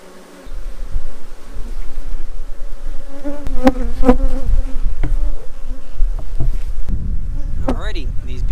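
Dense, steady buzzing of many honeybees swarming close by around a hive, a continuous droning hum with occasional louder passes near the listener.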